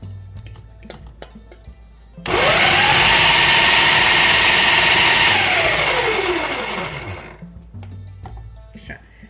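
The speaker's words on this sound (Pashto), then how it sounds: "مرچ هم له دې رومیانو سره په ماشین کې اچوم." A kitchen blender grinds tomatoes and chilies for a tomato chutney, a loud steady motor whir starting abruptly and running for about five seconds before winding down, with faint clinks before and after.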